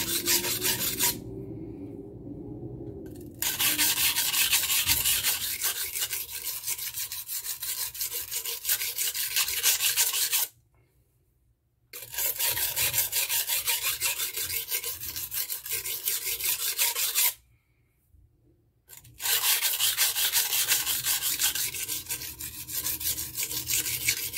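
A Henckels 7-inch santoku knife is drawn across a coarse Norton Crystolon 120 grit stone, a loud gritty scraping in long strokes broken by brief silent pauses, close and with no talking.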